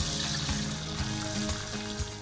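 Fish coated in ground spice paste sizzles in hot oil, a steady dense crackle and hiss with faint periodic low thumps, continuous and close throughout.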